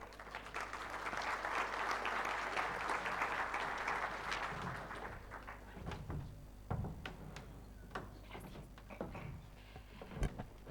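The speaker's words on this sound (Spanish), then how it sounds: "recibimos con un aplauso a Telma Susana Togo Coca." An audience at a law conference applauds a speaker steadily for several seconds, the clapping gradually thinning out into a few scattered claps and small knocks.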